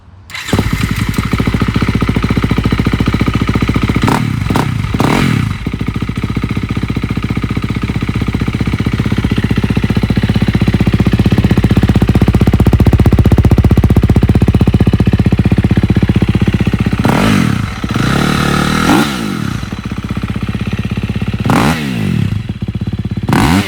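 A late-model KTM or Husqvarna four-stroke dirt bike fitted with a Yoshimura RS-12 exhaust starts and idles loud and close, with several sharp throttle blips revving the engine near the end.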